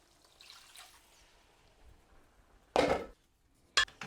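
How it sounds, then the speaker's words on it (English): Warm water poured into a cooking pot of homemade matar paneer, a short splashing pour near the middle followed by a second brief splash, with quiet kitchen sounds between. "now I'm going to add about 1 cup of warm water"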